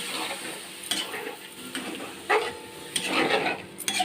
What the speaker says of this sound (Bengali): আমার মশলা ভাজা হয়ে গেছে, এবার জল দিলাম।